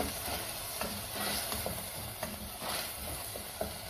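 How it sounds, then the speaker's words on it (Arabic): Chopped onion sautéing in a pan for Sudanese fesikh, a soft constant sizzle with repeated scraping stirs at a loose rhythm, close and fairly quiet. "انا هشوح البصل"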